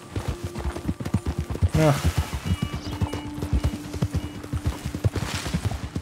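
A horse gallops in Red Dead Redemption 2, its hooves pounding in a quick, close, rhythmic clip-clop with a brief whinny partway through, while people talk over it.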